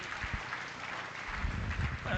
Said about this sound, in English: A huge round of applause for both of them